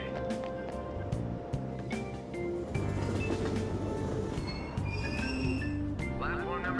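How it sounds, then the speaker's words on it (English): A train in Persona 5 Royal rumbles and hums as it pulls out of a Tokyo subway station, a steady low drone with faint chimes and clanks, while a station announcement voice speaks over it. "Train doors are now closing."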